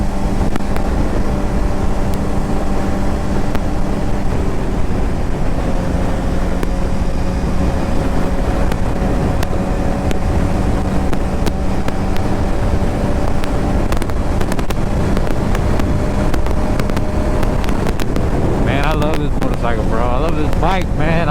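A 2007 Suzuki GSX-R750 sport bike with a very loud exhaust cruising on a highway, a constant roaring engine drone buffeted by heavy wind noise throughout, with a brief burst of higher revving near the end.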